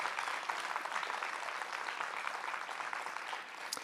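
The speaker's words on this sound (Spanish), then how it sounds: "Le damos un aplauso más a Carla y a Enrique, por favor." An audience applauds steadily and fairly loudly throughout, a dense continuous clapping from a crowd at a live event.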